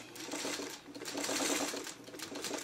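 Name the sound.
sewing machine sewing triangle pieces together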